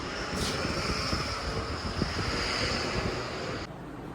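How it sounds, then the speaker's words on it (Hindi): Strong wind blowing outdoors buffets the microphone with a steady, loud roar and rumble that holds for a few seconds before easing slightly, with no talking. "तो मौसम देखो, जो हवा चल रही है"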